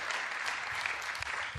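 An audience at a chess tournament finals event claps together, a dense, sustained wash of applause filling the whole stretch at an even level, with no one speaking over it.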